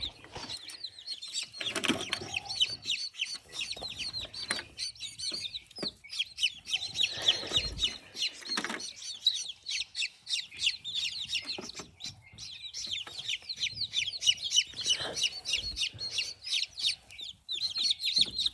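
Day-old baby chicks on a farm chirp continuously in a dense, high-pitched flock chorus, close and loud, with occasional wing flutters and handling bumps, and no talking.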